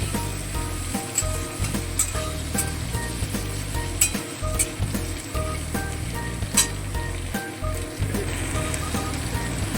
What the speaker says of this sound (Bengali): পেঁপেটাও বাকি সবজিগুলোর সঙ্গে ভালো করে কেড়ে কেড়ে ভেজে নিচ্ছি